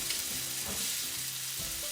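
Cooked pasta fries in brown butter in a nonstick pan, a soft steady sizzle with a few gentle stirring scrapes, fairly quiet and with no voice over it.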